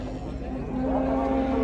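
Cattle at an animal market, with one close, sustained low moo that swells louder over about a second and a half against a steady background murmur.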